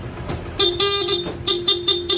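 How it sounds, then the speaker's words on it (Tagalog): The stock horn of a Honda ADV 160 scooter gives a series of short, close, loud beeps: a couple of quick toots, then a longer blast and several rapid taps. "Pag nakapatay yan, stock horn yung tutunog."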